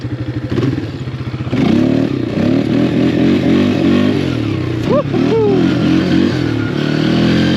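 A Polaris Scrambler 500 H.O. ATV engine revs hard and steady through a wheelie, loud and close, with a brief higher whine of strain partway through and continuous mechanical clatter underneath.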